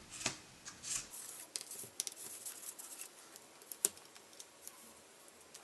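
Fabric being cut with scissors for a last-minute Halloween costume sewn without a pattern: close, soft snipping and rustling in an uneven rhythm, with no talk.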